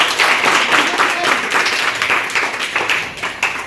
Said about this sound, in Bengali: তাহলে সবাই একটা হাততালি দাও।